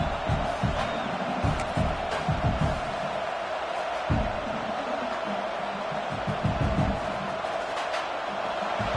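Stadium crowd at a Washington vs Oklahoma college football game roaring steadily against the offense, a dense continuous wall of cheering with bursts and thuds rising above it, no clear speech.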